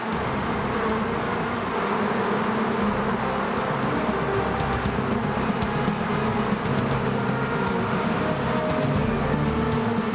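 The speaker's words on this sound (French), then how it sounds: "Retirer les abeilles sans les énerver." A large swarm of bees clustered over a man's body makes a dense, steady buzzing hum that stays loud and unbroken throughout, with no voices over it.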